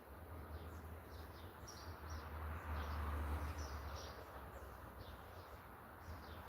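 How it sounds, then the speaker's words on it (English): Birds chirp and sing faintly outdoors in a quiet Portuguese neighbourhood, a blackbird among them, with short high calls repeating over a low steady rumble of background hum. "I can hear the birds singing"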